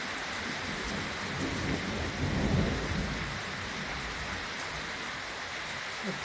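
Steady rain from a thunderstorm hisses down continuously, with a low rumble of thunder swelling briefly in the middle.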